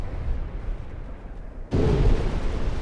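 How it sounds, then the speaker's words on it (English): A torpedo strikes a warship in the naval combat game Ultimate Admiral: Dreadnoughts, a sudden loud, deep explosive blast that cuts in after a quieter rumble and holds as a heavy roar. "Torpedo hit."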